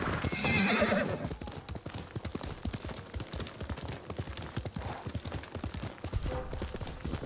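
Rhythmic hoofbeats clopping steadily with a horse whinnying at the start, continuous and fairly close, from the video game Ghost of Tsushima.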